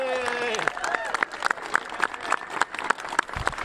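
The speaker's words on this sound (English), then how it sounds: "can we please have a round of applause for Pastor Ed" Crowd applause in a racetrack winner's circle at Canterbury Park as a pastor receives an award, with scattered clapping that breaks in after a tonal voice or sound at the start and continues under talk.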